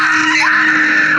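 A woman screams in a sustained, loud, high-pitched cry, close and alone.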